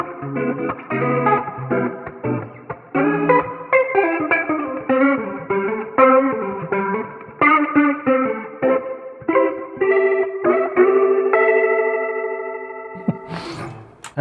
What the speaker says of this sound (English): let's go to the rotary drum and let's hear what it sounds like